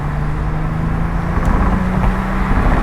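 A 2008 Porsche 911 Turbo in Metallic Walnut drones steadily from inside the cabin while driving, with a sustained engine hum and road noise at an even, moderately loud level.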